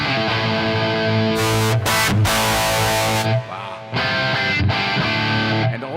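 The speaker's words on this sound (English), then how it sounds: "this is the sound without the amp, the cabinet." Raw electric guitar without amp or cabinet simulation, loud and bright with a fizzy, harsh edge, playing sustained chords broken by short gaps.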